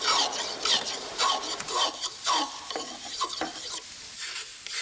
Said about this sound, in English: I like a spoke shave because it carves a flat chamfer